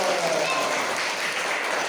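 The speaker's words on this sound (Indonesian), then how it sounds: "Ya, tepuk tangan buat Habib" A crowd of students at an elementary school in Banda Aceh claps and applauds steadily throughout, a dense patter of hands at moderate loudness.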